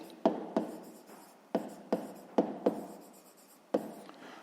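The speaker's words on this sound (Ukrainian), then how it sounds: "Ну що ж, записуємо тоді відповідь." A pen writes out the answer to a fifth-grade maths problem on paper, with several short, crisp scratching strokes in an uneven rhythm, close and fairly quiet, with no talking.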